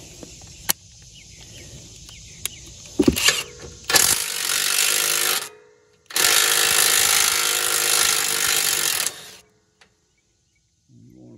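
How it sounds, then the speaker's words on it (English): A small impact wrench removes the skid plate bolts on a Gravely Pro-Turn 200 zero-turn mower, firing in two long loud rattling bursts after a few short clanks and taps, then going quiet, with no voices. "Now I'm gonna use a little impact wrench."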